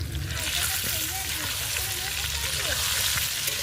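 Potatoes frying in a pan while country chicken curry is being cooked, a dense continuous sizzle with crackling oil and occasional stirring, close and steady throughout.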